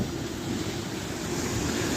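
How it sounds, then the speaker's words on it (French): Waterfall in the Gorges du Verdon, a steady broad rushing roar of falling water mixed with outdoor wind noise, continuous and close with no voices. "Et de l'autre côté, bah, c'est la cascade."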